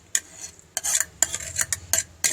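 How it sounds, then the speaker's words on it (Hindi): A spoon stirring cucumber raita with onion, green chillies and tomato in a bowl, about six sharp scraping clinks at irregular intervals, close and fairly quiet, with no talking. "अच्छी तरह मिक्स करेंगे।"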